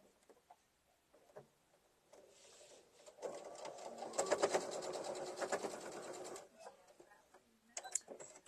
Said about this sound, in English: I'm just going to sew that to the top of my egg